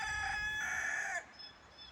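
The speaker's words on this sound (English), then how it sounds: "Oh, the chickens never stop here." A rooster crows loudly nearby in one drawn-out call that cuts off abruptly, leaving faint background noise.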